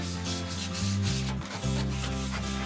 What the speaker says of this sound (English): Our next step is sanding down the bench.